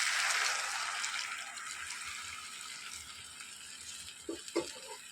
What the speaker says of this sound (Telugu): ఆ పులుసు పోయాలి.